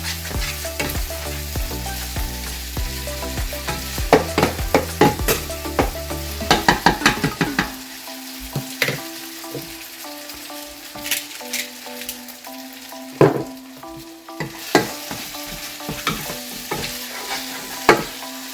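Taco meat frying in a pan while being stirred with a utensil, a close steady sizzle broken by repeated sharp scraping and clinking strokes, busy at first and then sparser, with no talking.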